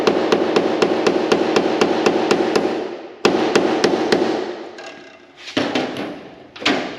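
A hammer strikes a metal Honda N600 body panel to form a flat spot: a rapid, evenly spaced run of about a dozen sharp, ringing blows, then a few slower, isolated hits.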